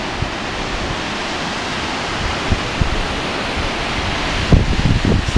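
Copper Creek Falls in North Idaho pours into a gorge, a loud, close, steady roar of rushing water and flowing creek with a few bumps from the microphone and no talking.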